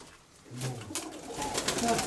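Flying pigeons offered for sale giving low coos up close amid wing rustles and shuffling, with faint voices in the background.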